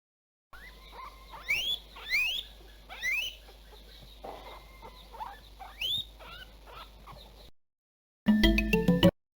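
Guinea pig squeaks and chirps from a video game, a run of rising whistles and chattering squeals in bursts, followed after a brief gap by a short loud musical jingle.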